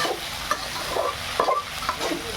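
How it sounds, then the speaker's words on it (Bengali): Spices, ginger and garlic frying in oil while being stirred, a close, steady sizzle punctuated by scraping stirs about every half second. "আর এখানে ভাজা হইতেছে মশলা, আদা টাদা জ্বালাইছি, আদা রসুন সব জ্বালাইছি, ভালো করে ভাজা"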